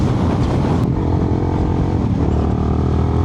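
A Suzuki SV650 motorcycle rides along the road, its engine a loud continuous drone mixed with heavy wind rush, steady throughout.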